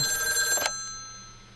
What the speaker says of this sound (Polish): Telefon też normalnie dzwoni.